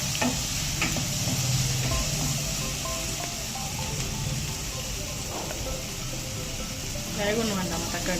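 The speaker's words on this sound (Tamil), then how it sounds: "இந்த சில்லி போடுற எல்லாத்தோட பச்சை வாசனை போகிறதுக்கு கொஞ்சம் கிண்டிக்கலாம்." Chilli and masala stirred and frying in a pan for a chow chow side dish, a steady close sizzle with scraping stir strokes running throughout, under faint background voice.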